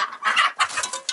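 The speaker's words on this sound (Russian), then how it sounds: "что творят петухи эти" Farmyard roosters cluck close by in short, agitated bursts, loud and uneven, with no talking.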